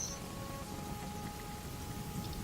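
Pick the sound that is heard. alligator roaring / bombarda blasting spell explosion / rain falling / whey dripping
rain falling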